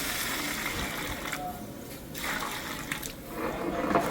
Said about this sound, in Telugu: ఇది ముక్క మునిగే వరకు వాటర్ వేసుకోవాలి